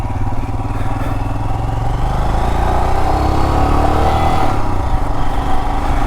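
Royal Enfield Himalayan five-speed motorcycle engine drones loudly and steadily while riding, a continuous close rumble with a slight rise in pitch toward the end.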